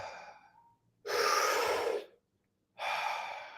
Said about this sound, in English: So we'll be taking nice big deep breaths